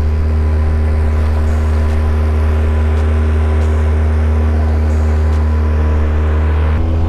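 A jon boat's outboard motor running at full throttle through a sharp turn, a loud, steady, continuous drone from close by, with no voices.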